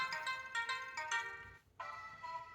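Surf Chimes ringtone from a Barbie flip phone, a short tinkling chime melody of quick repeated notes, a brief dip, then a sustained chiming tone, soft and unaccompanied by speech.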